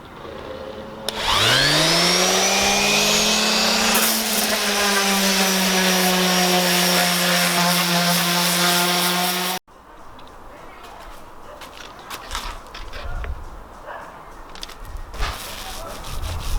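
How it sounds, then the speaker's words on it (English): A dual-action power sander whines up to a steady loud drone on painted wood, holds it for several seconds, then cuts off, leaving quieter scraping and handling noises. "Next job is to sand this down."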